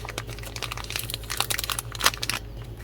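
Crinkly packaging from a Dollar Tree craft kit, heavily taped, is torn and crumpled open, giving close, continuous rustling and crackling with a few sharper rips.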